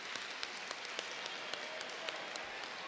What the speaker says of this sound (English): give a hearty round of applause to our guest speaker,